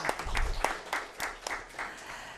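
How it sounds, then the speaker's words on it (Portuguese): Brief, fairly faint applause from a lecture audience honoring legal professionals, a handful of separate claps in an uneven rhythm that taper off over a couple of seconds. "aqui vai um aplauso também para o pessoal do direito"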